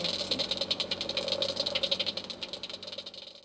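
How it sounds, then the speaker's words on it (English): Bat echolocation calls, converted to audible range by a bat detector, come through as a rapid, steady train of dry clicks and ticks over a low hum, lasting several seconds. "it's picking up the echolocation from the bats and bringing it down to the level that we can hear"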